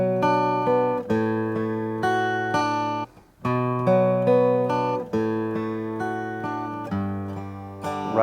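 A guitar strums a D over 5 chord from a song in several ringing strokes. The strokes are evenly spaced and each one decays, with a short gap midway.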